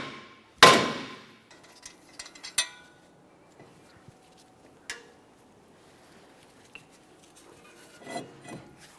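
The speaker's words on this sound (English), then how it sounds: "carefully tap it out of place using a hammer" A loud metallic strike rings out as a hammer taps a stuck brake rotor on a 2014-2018 Mazda 3, then a scattering of lighter taps and clinks follows, with quiet pauses between them.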